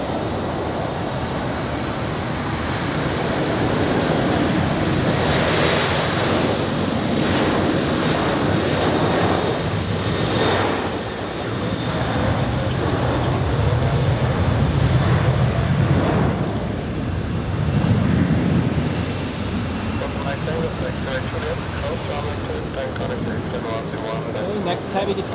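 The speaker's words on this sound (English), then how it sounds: "Now switching over to runway 28 because the LR cargo has received takeoff clearance" A cargo aircraft takes off from runway 28 at Zurich Airport with a broad engine roar that rises and falls over the stretch, partly under wind noise, while a voice talks.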